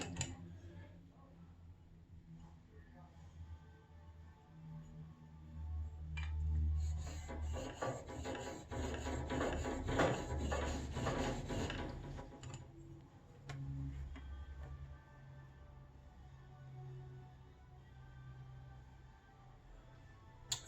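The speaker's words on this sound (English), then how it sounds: "I might have to strop this A2 iron." An A2 steel plane iron is rubbed back and forth on a DMT DuoSharp diamond plate, making a close, gritty rasping that builds into a dense stretch of strokes midway and then tapers off into quieter scraping.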